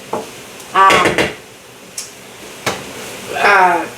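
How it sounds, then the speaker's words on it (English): Pineapple chicken with rice being stirred in a pot, with a few short scraping and clattering bursts of a utensil against the pot, moderately loud and close, separated by quiet pauses. "Stir this up."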